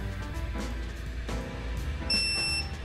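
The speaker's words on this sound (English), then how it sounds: "wait for it to beep." A short, high electronic beep near the end from a STACYC electric balance bike switched back on, sounding once or twice over a low background rumble and soft knocks.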